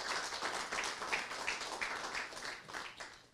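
Applause for thirty volunteers at the handover of the Mariënburg cemetery, a soft, steady patter of many hands clapping together, heard from a distance and fairly faint, with no voices over it.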